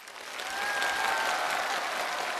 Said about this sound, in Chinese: 来，掌声欢迎我们的小英雄，回到地面。